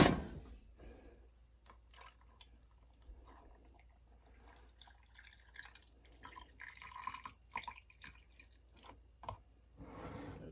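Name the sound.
water filling glass canning jars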